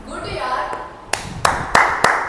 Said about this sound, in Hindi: अच्छा राधे के लिए तालियां हो जाएंगे।